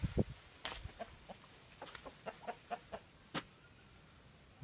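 Hens clucking inside a small henhouse where chickens sleep on wooden perches over wood shavings: a scattered run of soft, short clucks and a few sharper calls, faint and close, with quiet gaps between them.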